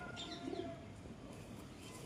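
A pigeon kept at home gives a short, faint, low coo, distant and soft beneath a quiet background hum.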